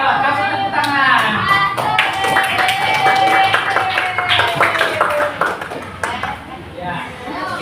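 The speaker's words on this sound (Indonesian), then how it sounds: "Ayo, kasih tepuk tangan." Classroom applause from students, with brisk, uneven clapping that starts strongly and tapers off, alongside bright pinging tones and children's voices chattering over it.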